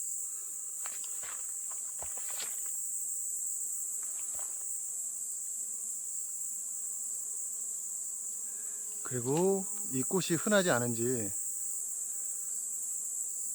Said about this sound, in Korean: 윙윙 거리는 소리가 굉장히 많이 들리는 게, 여기 있는 이 꽃 때문에 벌들이 꿀을 채집하러 많이 나와 있는 것 같습니다.